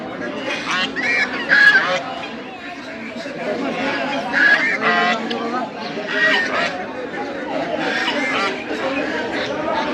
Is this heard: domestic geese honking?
yes